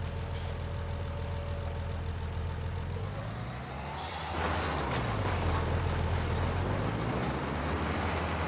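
Yard tractor engine in Farming Simulator 19: a low, steady idling drone, then a louder, rougher rise as the engine is worked, heard alone without talk.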